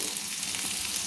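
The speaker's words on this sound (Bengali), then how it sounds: "দিয়ে আমি ভালো করে কিন্তু এগুলো একটু তেলের মধ্যে নেড়ে নিচ্ছি" Ground spices, including coriander powder, frying in hot oil for chicken changezi, a continuous close sizzle with no voice over it.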